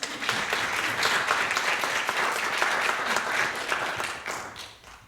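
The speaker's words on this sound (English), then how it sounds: "Big round of applause." Applause from an audience at a community event fills the space in a dense, lively clatter of many hands, holding steady for several seconds before tapering off at the end.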